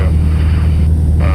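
Slow light aircraft in flight during an introductory lesson, its engine a steady loud droning hum filling the cabin without a break.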